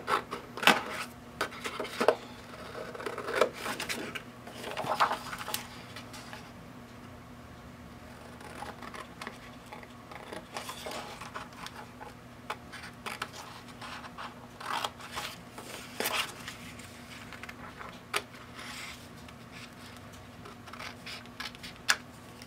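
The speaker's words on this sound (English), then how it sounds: "I want that snowflake and that snowflake, so I'm going to cut them out." Scissors snipping through paper while cutting out snowflake shapes for a scrapbook layout, a scattering of faint, quiet cuts and rustles spread unevenly across the stretch with no talking.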